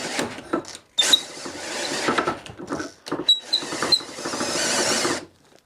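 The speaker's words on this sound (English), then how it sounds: "The best way to clean this out is to put my drill in reverse and back it into the hole." A power drill runs in reverse inside a chair mortise in loud, close bursts of whirring and grinding, broken by short pauses and ending in a longer steady run.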